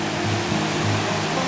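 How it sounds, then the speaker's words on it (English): A river beside a woodland trail in Nova Scotia rushes in a steady, loud broadband wash of flowing water, continuous and close with no pauses or voices. "There's the river flowing"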